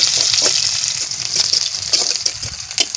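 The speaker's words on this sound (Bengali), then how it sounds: "পেঁয়াজ কাটাটা দিয়ে ভালো করে নেড়ে নেবো এবারে।" Sliced onions stirred in sizzling hot oil with spices for a chicken-scrap pumpkin, pointed gourd and potato curry, a steady close frying hiss broken by soft scraping stirs, no voices.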